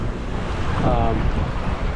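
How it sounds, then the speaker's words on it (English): Wind blows at the Waikiki shoreline, driving surf against the beach: a steady, loud roar of gusts buffeting the microphone over breaking water. "the way that the wind is blowing the surf towards the shore"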